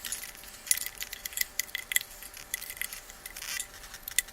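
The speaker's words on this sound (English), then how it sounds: "I cut this with a very interesting noise" Close-up cutting of a tube with rough scraping and a series of sharp metallic clicks and snaps, irregular and fairly quiet, with no talking.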